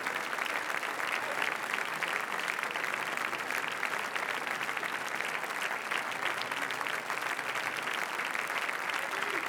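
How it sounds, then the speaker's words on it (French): Sustained applause from a large audience fills the Grand Théâtre Lumière at Cannes 2015 for a film team, a dense, even clatter of many hands clapping without pause. "toute l'équipe accueillie dans la grande salle lumière par des applaudissements"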